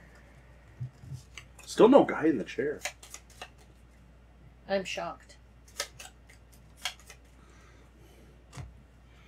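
Cards for the Gloomhaven: Jaws of the Lion board game are shuffled by hand in quick riffling bursts, loudest near the start and then in shorter clicks and flutters, while people talk at the table.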